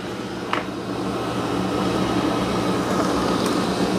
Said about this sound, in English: it can lift the mop pads and start vacuuming carpet